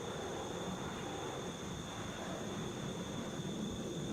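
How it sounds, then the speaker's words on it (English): A SkyWest Delta Connection Mitsubishi CRJ 900 LR regional jet at Atlanta International Airport makes a loud, continuous broadband engine roar with a steady high whine, unbroken for the whole stretch. "This is SkyWest Delta Connection. Flight 3711 going to Lexington on a Mitsubishi CRJ 900 LR."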